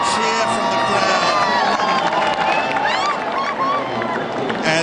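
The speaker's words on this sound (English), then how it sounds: "this is the reaction in Melbourne in Federation Square. A cheer from the crowd" A large crowd gathered in Federation Square, Melbourne, cheers loudly and continuously for a horse race finish, a dense roar of shouts and whoops with voices mixed in throughout.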